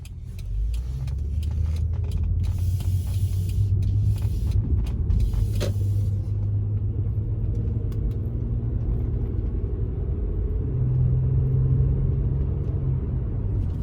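A car rolls along in slow traffic, with a steady low engine and road rumble from inside the cabin and a few brief mechanical clicks, no talk.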